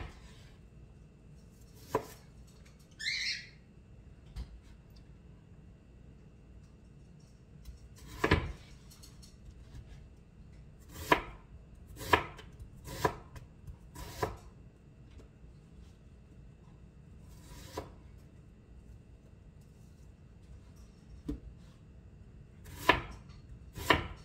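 Knife chopping vegetables for a tomato sauce for oxtail, heard as sparse, sharp chops on a board spaced irregularly, several close together mid-way, with quiet pauses between.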